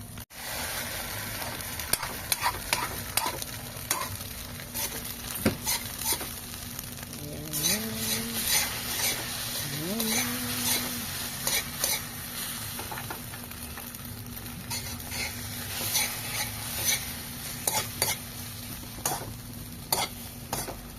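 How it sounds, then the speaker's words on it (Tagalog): An egg fries in a pan with a continuous close sizzle and frequent sharp crackles and pops, while brief tonal whistles rise and fade partway through. "Yan, ang itlog. Malapit na maluto, guys."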